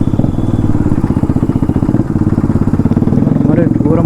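A Bajaj Dominar 250 motorcycle runs with its exhaust silencer removed, giving a loud, close, rapid staccato engine beat that holds steady with slight revving toward the end.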